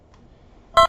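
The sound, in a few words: beep sound in Oculus VR toss game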